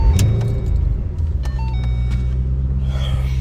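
A 2010 Ford Mustang GT Premium V8 with a five-speed, not cold, cranks briefly and fires into a deep, loud rumble close by, then settles to a steady idle burble.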